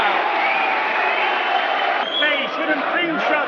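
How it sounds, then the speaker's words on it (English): A boxing arena crowd roars in a continuous dense wash of cheering, with a commentator talking over it. "And look at this crowd."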